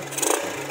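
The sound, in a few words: Kawasaki Athlete motorcycle engine being revved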